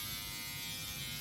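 An electric shaver runs steadily for the whole moment, a continuous close, loud buzzing drone with no pauses and no voices over it.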